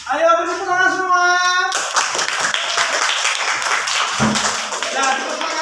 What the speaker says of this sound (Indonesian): Ayo beri tepuk tangan semua.